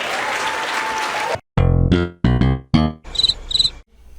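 Crickets chirp as a comedy-show sound effect: rapid, high chirps in a brief cluster, following a burst of applause and a few punchy musical hits.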